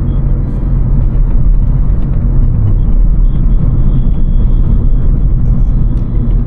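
A 2003 Honda Civic is driven hard, its engine a loud, steady low drone and rumble with road and cabin noise that holds evenly throughout, with no voices.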